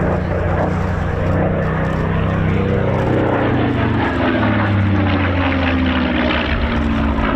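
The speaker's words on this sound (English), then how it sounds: "as Mark climbs into another three-quarter victory roll." A BBMF Spitfire propeller aircraft flies at the RAF Cosford Air Show, its engine a loud, sustained droning roar with shifting pitch as it climbs and rolls, heard under an announcer's commentary.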